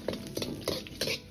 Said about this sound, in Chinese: 把花椒辣椒一定要炒出胡辣的香味，呈枣红色